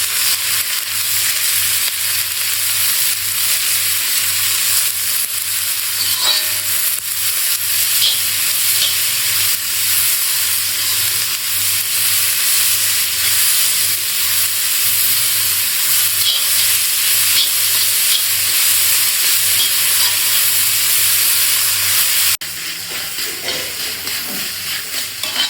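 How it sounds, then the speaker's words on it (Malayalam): Onions sautéing in oil for a Kerala beef roast, a steady close sizzle with intermittent scraping stirs throughout, the frying continuing alone without any talk. "സവാള വഴറ്റിയെടുക്കേണ്ട ആവശ്യത്തിന് ഉപ്പ്"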